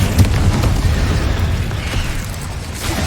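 Spell blasts from Confringo and Bombarda in the Hogwarts Legacy video game: a dense, continuous rumble of low booms and bursts, loud and sustained throughout without talk.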